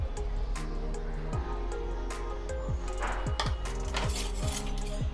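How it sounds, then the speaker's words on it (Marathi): A spoon scoops and clinks yogurt into a bowl in a home kitchen, with several brief utensil scrapes and taps against the dish heard up close, over a steady low background hum. "तर इथे मी एक बाउल घेतलेला आहे, तर त्यामध्ये मी हे दही काढून घेते।"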